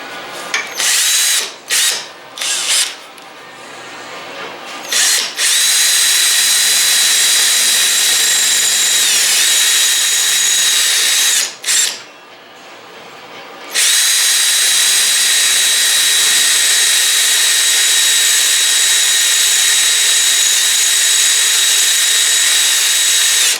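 A loud, high-pitched power tool whines almost continuously while rusted patches are worked off a 1968 Triumph TR250 body during restoration, broken by a few brief stops and restarts.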